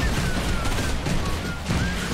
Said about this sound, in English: That's like mech level of rockets.